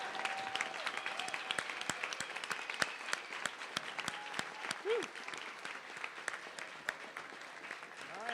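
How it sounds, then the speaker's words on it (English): Applause for a newly introduced board of directors at an SSDP 2018 awards ceremony: fairly quiet, scattered clapping with distinct individual claps over a soft crowd murmur. "Let's give all these wonderful folks a big round of applause."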